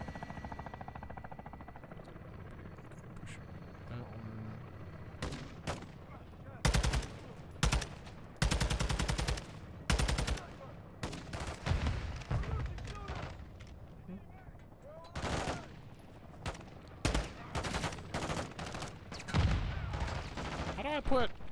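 Gunfire in the Call of Duty: Modern Warfare 2 campaign: sharp bursts and single shots in irregular clusters, loud against a low ambient rumble, with a player's voice talking over parts of the action.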